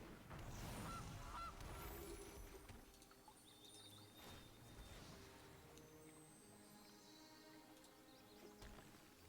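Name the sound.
goose honk from Gilded Goose card in MTG Arena video game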